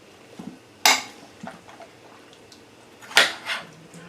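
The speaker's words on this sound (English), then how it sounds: "I'm going to kind of stir this around a little bit and get this distributed a little better." Spoon stirring beef stew in a crock pot, with a few scattered clinks and scrapes of metal against the pot, including two sharper knocks, in an otherwise quiet kitchen.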